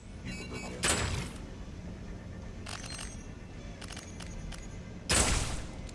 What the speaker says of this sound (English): I heard like the telltale sound of a missile dude doing missile dude things